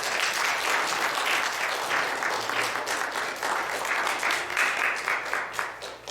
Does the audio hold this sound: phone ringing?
no